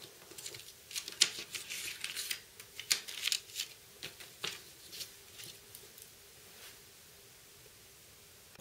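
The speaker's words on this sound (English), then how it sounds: "now cut along each of the dotted lines labeled cut." Scissors cut paper along dotted lines, with a run of close, crisp snips and rustles in uneven bursts that fade to quiet near the end, no talking.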